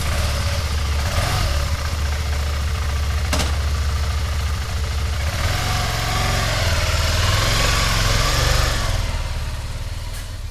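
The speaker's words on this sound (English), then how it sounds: "I'm going to start the bike and just take a quick spin around the block" A motorcycle that has just been lowered in a home shop runs steadily at close range, a loud, continuous mid-pitched engine drone with a rough, knocking pulse and no talk.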